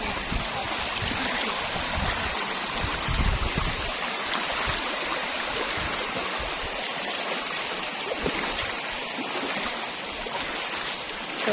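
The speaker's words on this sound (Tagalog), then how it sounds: "So dito kami maliligo sa may falls na to." Water from a clear waterfall pours into a stream in a natural swimming spot, a steady, dense rushing roar that stays close and continuous throughout.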